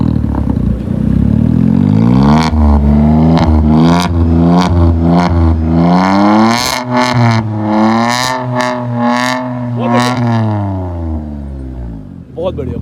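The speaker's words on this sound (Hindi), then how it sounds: "जरा इसका एग्जॉस्ट साउंड सुनते हैं यार" A Tata Altroz CNG hatchback fitted with an aftermarket exhaust revs repeatedly, loud close bursts of rising and falling engine pitch with crackling pops between throttle blips, several sharp revs in succession.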